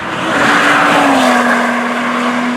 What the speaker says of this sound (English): Wow, quick to rev, very quick to rev.